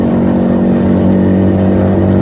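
A Keeway SCR 250V motorcycle fitted with a Mavionic aftermarket exhaust runs with a loud, steady, deep engine drone, recorded close while riding, holding a constant pitch throughout with no speech.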